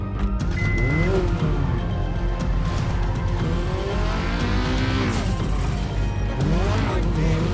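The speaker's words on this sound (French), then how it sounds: "il faut que je rejoigne mon véhicule, histoire de pouvoir m'échapper beaucoup plus rapidement" Car driven at speed in the video game GTA 5 while escaping police: a loud, continuous engine roar with shifting revs and brief tire squeals, up close throughout.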